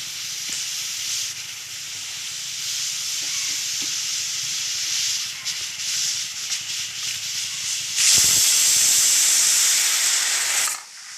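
A pressure cooker holding spiced rice porridge hisses steadily with escaping steam, then lets out a loud, sharp whistle burst near the end before cutting off.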